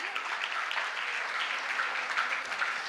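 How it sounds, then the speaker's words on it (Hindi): A women's audience at a Hindi motivational session breaks into loud, sustained clapping that holds steady and dense throughout, with no talk over it. "एक बार जोरदार तालियां बजा के फिर से थोड़ा सा चैतन्य बढ़ाइए"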